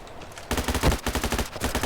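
Rapid gunfire from a long-range gun in the shooter game Ballistic Overkill comes in steady bursts of sharp, close shots after a quiet start.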